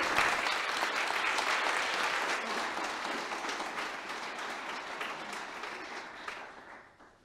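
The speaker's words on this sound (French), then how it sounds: "On peut peut-être vous applaudir avant d'accueillir Dorothée." An audience at an evening innovation event breaks into applause: a full, dense burst of clapping that starts strong and gradually thins and fades over about seven seconds, with no talk over it.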